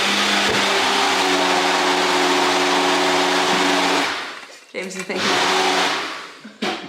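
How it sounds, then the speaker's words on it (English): A countertop blender whirs steadily at full power while making a smoothie, loud and close, then stops abruptly and restarts in two shorter bursts with a brief pause between. "is making a smoothie for us."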